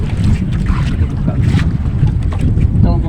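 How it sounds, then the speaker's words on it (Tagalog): Wind and rough sea wash around a small fishing boat, a dense continuous roar of water and gusts buffeting the microphone close up, with a faint voice briefly under it. "Malalaki na naman ang alon."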